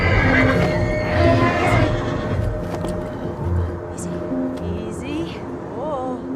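A horse whinnies up close with rising and falling neighs, its hooves clip-clopping over a steady outdoor background, as a person speaks soothingly to it.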